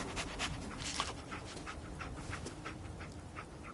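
Dogmeat, the dog companion in Fallout 4, pants in quick rhythmic breaths, quiet and close, with a soft game ambience beneath.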